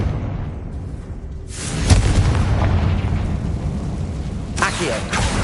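A Confringo spell explodes in a Harry Potter video game: a loud booming blast bursts out near the two-second mark and rolls into a sustained rumbling roar, with a voice speaking over it.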